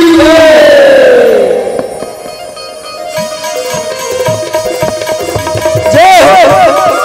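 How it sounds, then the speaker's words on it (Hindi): A devotional crowd at a Ram bhajan gathering roars a loud praise chant to Ram, voices rising together in a sustained shout with scattered clapping, a singing voice drifting over the top near the end. "राम के नाम में जोरदार जयकारा और ताली बजाना है"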